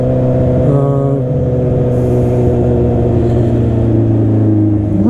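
Honda CB650R motorcycle engine and exhaust heard close from the rider's position: a loud, steady, buzzy drone whose pitch shifts slightly as the throttle changes, with no talking.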